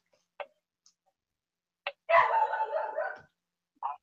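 A pet dog barks indoors, with a few short sharp yaps spaced apart and then a longer, rougher burst of barking and growling lasting about a second, followed by one more brief yap, fairly close and otherwise quiet.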